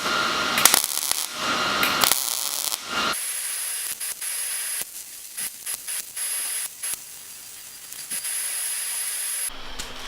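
Welding on the frame of a 240sx drift car, loud crackling hiss in bursts that start and stop as stitch welds are laid, with short silent gaps between runs.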